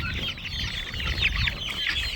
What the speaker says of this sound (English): Is that rooster giving you problems?